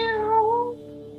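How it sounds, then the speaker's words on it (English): A creature mews like a lost kitten, one clear, wavering meow that rises and falls in pitch, close and loud, then fades into a faint tonal hum. "it mewed like a lost kitten"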